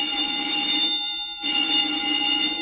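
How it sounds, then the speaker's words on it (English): Alarm in a Dimension X radio drama, a loud steady electric ringing with a bright pitched tone that cuts out briefly and then resumes, sounding alone. "The old woman must have turned in an alarm."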